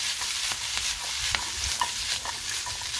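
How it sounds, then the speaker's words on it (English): Spaghetti tossed and stirred in a pan with olive oil for aglio olio with broccolini and pecans, a steady close sizzle of frying under scraping stir sounds and light clinks, with no talking. "Toss the pasta in. A little bit more olive oil just to coat that."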